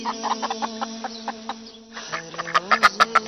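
A chicken clucking in a series of short, rhythmic clucks over a steady tonal background, growing louder and more insistent toward the end.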